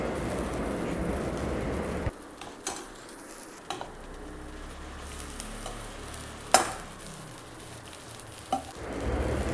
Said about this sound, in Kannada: ಇವಾಗ ನೋಡಿ ಆ ಪೌಡ್ರ್ ಮಾಡಿಟ್ಕೊಂಡಿರೋದನ್ನು ಹಾಕಿ ಸಣ್ಣುರಿಲಿ ನೀಟಾಗಿ ಫ್ರೈ ಮಾಡಬೇಕು.